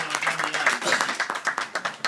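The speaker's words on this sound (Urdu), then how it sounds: "آپ کی تالیوں کے جھرمٹ میں نوشا اسرار کو بلاتے ہیں" Audience at a mushaira claps to welcome a poet to the stage, a lively burst of many hands in irregular rhythm, loud and close, with a voice speaking faintly beneath.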